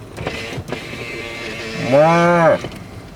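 Cattle in a rural Central Oregon setting, one loud close moo rising and falling for about half a second, with faint shuffling and outdoor background before it.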